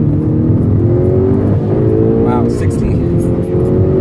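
A Mk6 VW GTI with an APR K04 turbo upgrade pulls hard through the gears from inside the cabin, engine droning and climbing with a dip at each shift as a voice calls out speeds.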